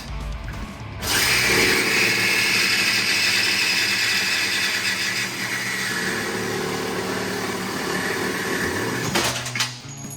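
A power tool cuts through the frame of a wrecked, abandoned supercar during a rebuild, whining loud and close in one steady grinding pass of about eight seconds before it stops, with no talk.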